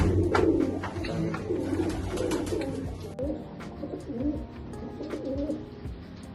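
Pigeons of a village fancier's flock coo repeatedly, close and fairly loud, with soft overlapping calls forming a steady murmuring rhythm throughout.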